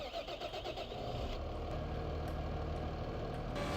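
A tractor pulling a mower and a loading wagon in Farming Simulator 2015 drives steadily, its engine giving a continuous mid-pitched drone with no talking.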